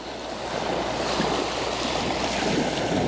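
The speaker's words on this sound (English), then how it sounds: "Wait for the water to come up, cover up the rock, shoot now, get the water pulling back down off of the rock." Sea waves wash over and pull back off rocks on the shore at Happisburgh, a steady broadband surf wash that swells slightly, close and continuous with some wind noise and no speech.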